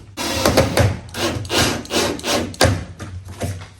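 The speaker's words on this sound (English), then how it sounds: "I'm going to try to find center and just run me a couple self-tapping screws on this one" Self-tapping screws being driven into a jon boat, giving a run of rough, gritty bursts of grinding and scraping in uneven pulses, close and fairly loud.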